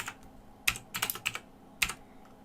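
An RGB colour value is typed on a computer keyboard, a few quick clusters of crisp, close keystrokes separated by brief pauses.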